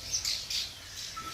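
Small birds call near their nest at a run-down college building, giving a few short, high chirps and squawks fairly close by, with no voices.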